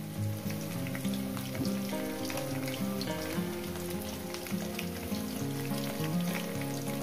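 Potatoes frying in oil with salt give a continuous, even sizzle with fine crackle throughout and a low steady hum beneath, with no voices.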